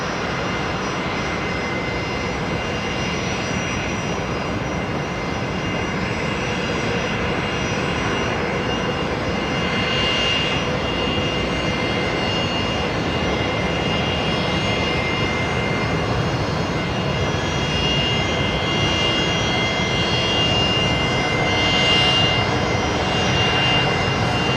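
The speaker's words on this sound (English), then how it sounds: "Let's enjoy these Rolls-Royce Tays coming in here." An aircraft powered by Rolls-Royce Tay jet engines arrives at Brisbane Airport, its jet roar loud and sustained for the whole stretch and swelling slightly toward the end, with no talking.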